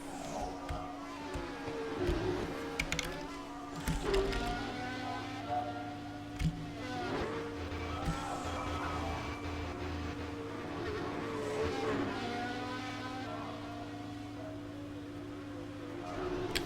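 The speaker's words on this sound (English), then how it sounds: "Oh, Morrow again going off at that corner" Racing cars in a CRC 2016 Austrian Grand Prix practice session in a racing video game, with one car running off the track at a corner; steady engine drone throughout, with a few sharper bursts.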